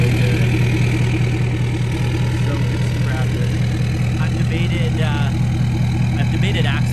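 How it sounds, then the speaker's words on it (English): A 2019 Ford Super Duty pickup with a 5-inch exhaust idles close by, a steady deep low rumble that does not change while someone talks over it. "That 5-inch exhaust sounds so"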